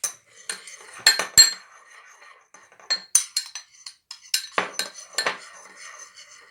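Utensils toss a vegetable salad in a bowl, sharp metallic clinks and scrapes coming in irregular clusters against the dish, close and clear with quiet gaps between bursts.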